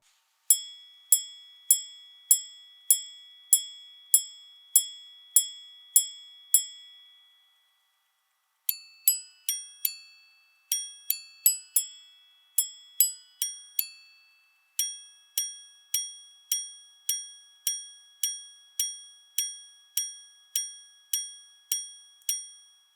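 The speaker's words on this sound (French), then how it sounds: "Ça, c'est pour le carillon Westminster." A Blancpain Grande Double Sonnerie watch striking the Westminster chime, bright tiny metallic gong tones in evenly spaced sequences with short pauses between phrases, close and clean with no talk.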